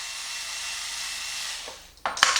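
A tool backs out the 2.5 mm motor screws on an XMAXX RC car, giving a steady, close, hissing whine that fades briefly, then a sharp burst of clattering, gritty noise near the end.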